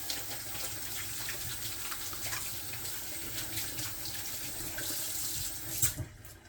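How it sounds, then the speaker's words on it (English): A kitchen sink faucet runs steadily with water splashing while hands are washed. The hiss is constant and moderately close, then cuts off near the end. "Let me wash my hands, because these onions got my eyes going crazy."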